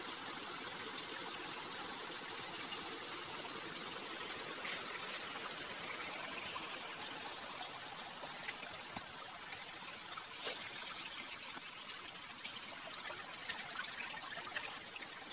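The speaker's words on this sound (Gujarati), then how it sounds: "અમારા ખેતરમાંથી પાણી આવે છે," Rainwater running off a farm field into a channel after a night of heavy rain and wind, a steady faint trickling flow throughout.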